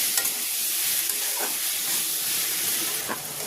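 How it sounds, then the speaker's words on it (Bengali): Ginger and chopped tomato fry in a pan, giving a steady hissing sizzle close by, broken by a few soft scrapes of a stirring spoon. "টমেটোও ভালো করে ভেজে নেব যাতে টমেটোর গন্ধ না থাকে"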